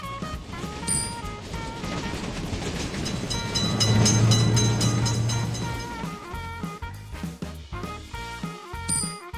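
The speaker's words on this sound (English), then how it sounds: "Train is coming!" A train in a railroad crossing simulator game rumbles past, swelling to a loud peak mid-way and then fading, with rhythmic clacking over steady background music.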